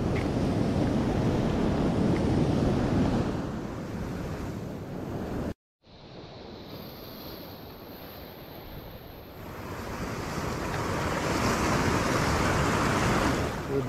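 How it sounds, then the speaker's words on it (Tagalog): Loud, continuous roar of ocean surf with strong waves crashing close by on the shore, heavy wind buffeting the microphone, and a brief dropout midway. "Kasi malalakas talaga yung hampas ng alon doon."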